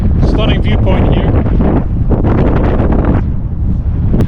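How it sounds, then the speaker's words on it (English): Strong wind buffets the microphone at a hilltop viewpoint near Orebić, Croatia, with a continuous rumbling roar, and a person seems to be talking underneath the gusts. "it's quite windy up here, so sorry if you can't hear me"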